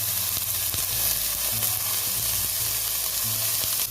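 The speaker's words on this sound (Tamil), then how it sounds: "இது எல்லாமே ஓவராக வதங்கிறது வேண்டாம், கடுக்குன்னு இருக்கிற மாதிரி நம்ம வதக்கலாம்." Carrots and green peas sauté in a pan, a steady bright sizzle and hiss with intermittent scraping stirs of a spoon cutting through at irregular intervals.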